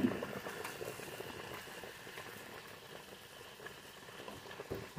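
A pot of frijoles de la olla with epazote boiling on a kitchen stove, giving a steady close bubbling and popping patter throughout, with no talk.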